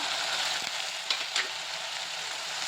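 Mixed vegetables and beans, including field beans, chickpeas, pigeon peas, peas and peanuts, frying in a pan for a mixed vegetable dish; a steady bright sizzle with a few brief stirring clatters, close and alone.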